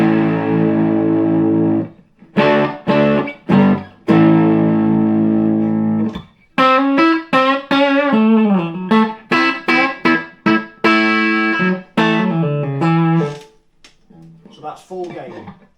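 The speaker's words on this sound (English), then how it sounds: "Nothing like a boring old triad chord to sniff out blocking distortion." Loud distorted electric guitar chords through a hand-wired 30-watt 1x12 Irving combo amp at full gain, sustained strums then choppier riffs with bends, close and full.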